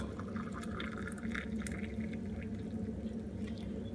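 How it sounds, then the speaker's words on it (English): Hot water from a kettle pours steadily into a cup, a continuous splashing trickle at moderate loudness with no talking. "Pour the kettle."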